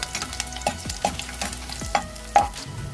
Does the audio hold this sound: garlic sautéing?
yes